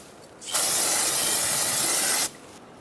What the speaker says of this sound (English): now you can use some brake parts cleaner and